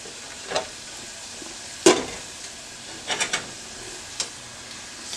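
An omelette mixture with onion sizzles steadily in bacon fat in a pan, a constant close hiss broken by a few sharp scrapes and clatters of stirring.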